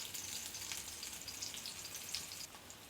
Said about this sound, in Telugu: ఇలా సిమ్లో పెట్టి ఒక సైడ్ వేగే వరకు ఉండి తర్వాత మళ్ళీ వెనక వైపు తిప్పుకొని వేయించుకోవాలి